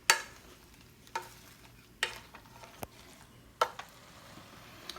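Onions sautéing in a pot for lobster bisque, with a handful of sharp spoon clanks against the pot at irregular intervals over a faint, low background sizzle, close by and without talk.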